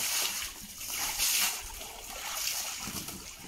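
Pigs splash and slosh in a pool trough inside a pigsty, a continuous close burst of churning water with brief heavier slaps, no talk over it.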